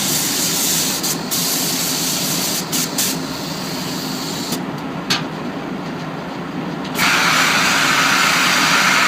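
Spray gun laying down an epic color base coat of car paint, with a steady loud hiss that cuts out briefly in short gaps and then returns stronger near the end.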